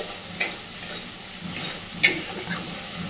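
Spice paste sizzles and hisses steadily in hot oil for a fish curry, with soft stirring scrapes and a few sharper spatters breaking through the continuous frying.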